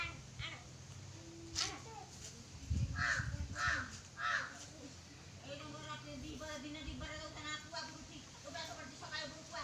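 A crow caws several times at a distance, faint and outdoors, while people talk nearby.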